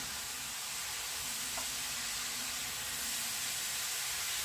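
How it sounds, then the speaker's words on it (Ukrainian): Shredded cabbage sizzles steadily in a hot pan as it is stirred, a soft, even frying hiss that stays constant and fairly quiet with no voices. "Викладаємо цю капусту. Перемішуємо."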